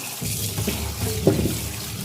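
Vegetables picked from a vine being washed one by one under a running kitchen tap: a steady close splash and trickle of water with small shifts in flow, no talking.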